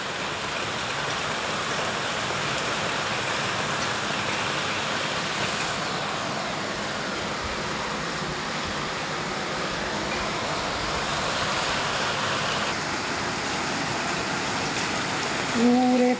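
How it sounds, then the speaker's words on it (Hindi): Continuous dense rush of heavy monsoon rain pouring down in Mumbai, steady and enveloping with no pauses, a faint brief tone near the end. "जोरदार बारिश शुरू हो गई"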